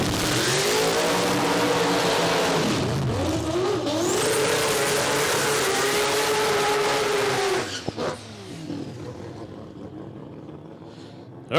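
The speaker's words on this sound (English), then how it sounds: "not going to talk over a 20B powered RX-7" A 20B rotary-powered Mazda RX-7 drag car screams down the drag strip at Palmyra Dragway, a loud rising rotary wail through several gear changes before cutting off and fading into distant crowd ambience.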